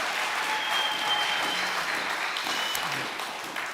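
An audience at a motivational talk claps steadily and fairly loudly for several seconds, a dense, even wash of applause that tapers slightly at the end.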